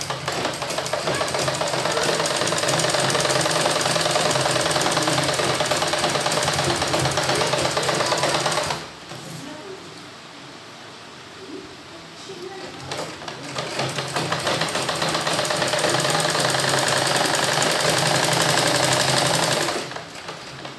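A sewing machine stitches a seam on a suit, a dense, fast mechanical whirr that runs for several seconds, stops briefly in a quieter stretch with faint handling sounds, then starts up again for a long run before stopping.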